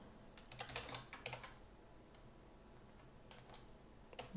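Quiet computer keyboard typing, with short bursts of rapid, light key clicks early on, a pause, then a few more scattered taps, close and soft with no voice.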